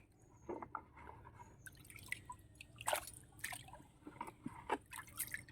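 Freshly harvested turmeric roots are swished and rinsed in a container of water in a garden setting. Soft, quiet splashes and drips come in irregular bursts, near and faint, with no talking.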